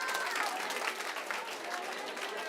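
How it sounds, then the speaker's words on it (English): Applause from a school end-of-year assembly audience, a steady dense patter of many hands held at an even level throughout, with a faint voice or two mixed in. "let's give them all a round of applause"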